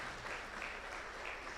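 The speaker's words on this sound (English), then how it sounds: "a better clap for them" A seated audience at a kick-off meeting for inclusive, resilient enterprises gives a round of applause, a faint, distant, even wash of many hands clapping in a large hall.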